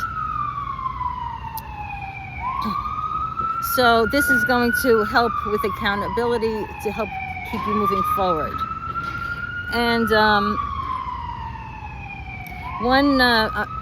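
An ambulance siren wails in repeated rising and falling sweeps, loud and nearby, while a person keeps talking over it.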